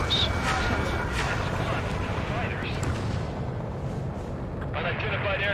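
Enemy gunfire and artillery-like booms rumble through an Ace Combat 7 aerial combat mission, a dense, continuous low roar with scattered bursts, heard under radio chatter and voices.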